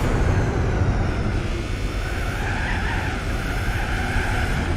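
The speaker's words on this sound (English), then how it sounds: "So if it wasn't for the engine sound, I'd love this car" A car in Gran Turismo 4 drives hard, its engine droning loud and continuous while the tyres skid and squeal throughout, close and unbroken.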